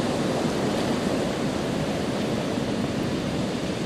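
Steady broadband rushing water from soliton waves at the River Carron mouth in Stonehaven, Scotland, a continuous roar of churning surf with no voices.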